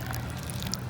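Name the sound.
pouring water onto packed dirt with seeds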